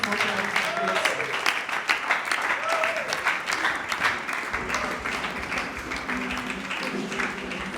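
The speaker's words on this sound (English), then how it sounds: "Let's keep on clapping till she gets here." Sustained audience applause fills a hall at a teen innovators challenge event, broad and steady throughout, with a speaker's voice and cheering carrying over it.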